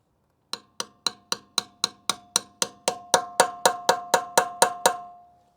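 An impact wrench socket bottoms out on a stuck Ford wheel lug nut, giving a steady run of about twenty sharp, ringing metallic hammer blows that speed up slightly and grow louder before stopping, with no talk.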